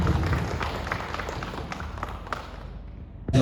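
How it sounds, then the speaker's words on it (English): Audience clapping for a government treasury official at a formal gathering, a dense, even patter of hands that fades out, followed by an abrupt louder thump at the end. "So, shall we give a round of applause to our Sr.DA?"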